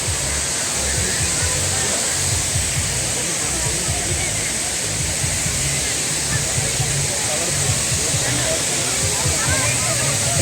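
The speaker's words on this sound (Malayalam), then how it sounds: "നമ്മ അവിടെ നിന്ന് കയറി ചെല്ലുമ്പോൾ തന്നെ ഫസ്റ്റ് കാണുന്നതാണ് ആ വെള്ളച്ചാട്ടം പോലത്തെ ഒരു സംഭവം" A man-made waterfall on a fairground in Ernakulam roars with a loud, continuous broadband rush of falling water, steady and close throughout with no breaks.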